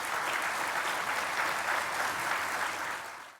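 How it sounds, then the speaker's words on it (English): A crowd gives a steady round of applause for law enforcement and a commissioner at a New York City public event, an even wash of clapping that holds for a few seconds and then fades out. "Let's give law enforcement and the commissioner a big round of applause."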